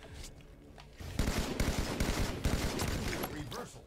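Rapid bursts of gunfire in Halo 5 Swat mode, a dense stream of shots starting abruptly and continuing under faint game noise.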